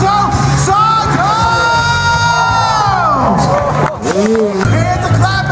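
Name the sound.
crowd cheering and clapping for FMX rider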